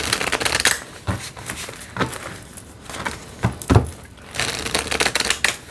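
Journey to Enlightenment tarot deck, well worn, being shuffled by hand: several bursts of riffling card slaps and soft rustling, close and fairly loud, with brief pauses between shuffles and no talking.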